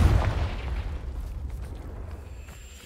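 Confringo spell blast from the game Hogwarts Legacy: a heavy booming explosion hitting at the start, then a rumbling crackling decay that fades over a few seconds, no talk.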